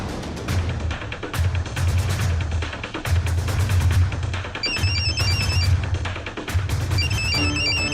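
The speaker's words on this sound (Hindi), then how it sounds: "मामा देखो, मम्मी का फोन आ रहा है।" A mobile phone rings in repeated bursts of a bright electronic ringtone, starting about halfway through over a loud, busy dramatic music bed, with no speech.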